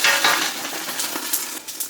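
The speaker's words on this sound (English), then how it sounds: "that's what we're going to use to saute our vegetables with" Frozen chopped onions hit hot oil in a pan, a bright, close sizzle with hissing and a few scraping clinks of a utensil against the pan.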